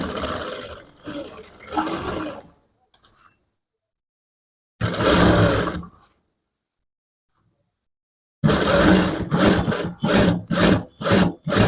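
Sewing machine stitching piping onto a blouse, heard in loud bursts of whirring motor and needle clatter separated by silent pauses, ending in a run of short stop-start stitching spurts.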